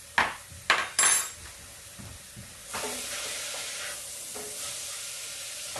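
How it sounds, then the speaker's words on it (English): Onions cooking for dhal in a pan: three sharp utensil clacks against the pan up front, then a steady close sizzle that carries on to the end, with no talking. "trying to pull liquid out of it a little bit and cook the onions a bit as well"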